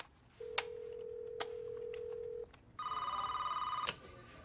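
A telephone line gives off a steady tone for about two seconds, then a telephone rings once in a loud, bright burst, with a few faint clicks and no talking.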